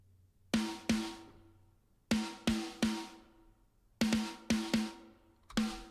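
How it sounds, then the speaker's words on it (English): A Matt Halpern signature snare sample from the P4 library is struck in short groups of two or three crisp, ringing hits separated by pauses. It sounds close and dry, with no voice. "So I added the snare of the P4 library, the Matt Halpern signature snare"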